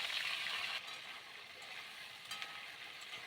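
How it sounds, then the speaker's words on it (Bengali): Cut potato and cauliflower frying in oil with cumin, a steady bright sizzle close by with a couple of soft stirring shifts, fairly quiet and alone. "নিয়ে আমরা কিছুক্ষণ ধরে লাল লাল করে ভেজে নেব"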